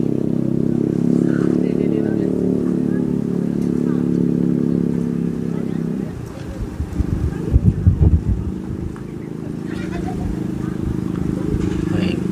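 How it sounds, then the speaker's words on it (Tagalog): Strong wind buffets the microphone at an outdoor walk at Monte Maria in Batangas City, a steady low roar with heavier gusts swelling midway before easing back. "Sobrang lakas ng hangin guys."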